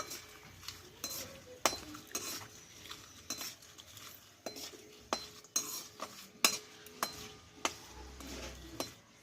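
A spoon stirs turmeric and chaat masala into oil in a pan, with repeated sharp metallic clinks and scrapes at an irregular rhythm over a faint sizzle, close and fairly quiet.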